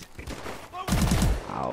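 Shotgun blasts in the video game Call of Duty Advanced Warfare, a loud burst of several rapid booming shots following a quieter stretch of game noise.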